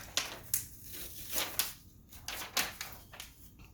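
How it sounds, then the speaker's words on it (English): Butcher paper peeled off a hot sublimated fabric blanket panel: a few sharp crinkly tearing rips and rustles in quick bursts, close and moderately loud, with no talking. "I'm taking the butcher paper off."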